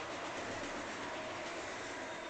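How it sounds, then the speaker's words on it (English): An auto rack freight train rolls past on the CP Tomah subdivision in Carroll, a steady, loud broadband rumble of railcars with faint wheel clatter throughout, no voices. "we have another auto rack train going by"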